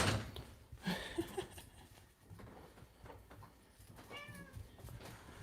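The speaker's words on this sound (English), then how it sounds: "Oh, Charlie Cat's waiting at the door" A house cat named Charlie meowing while waiting at the door, a few short, close meows with a clear rising-falling cry toward the end, amid light household noises.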